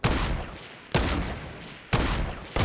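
Gunfire in Fortnite hits in heavy, loud bursts, each sharp volley followed by a decaying echo, repeating about three times in quick succession with no voices.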